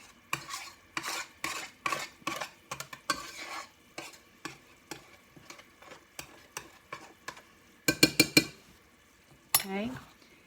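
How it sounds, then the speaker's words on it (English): A spoon stirs a jelly mixture in a pot with a run of rhythmic scraping strokes, close and distinct, ending in a few louder clinks against the pot. "And I'm mixing it all up."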